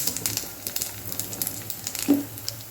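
Cashews and raisins sizzling and crackling in hot oil in a pan, close and steady with small popping spatters throughout and no talk.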